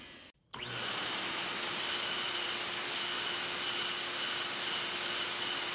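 A vacuum cleaner drawing air through an S-shaped nozzle on its intake: after a brief cutout, a loud, steady, close-up rushing whoosh with a constant whine runs unbroken to the end.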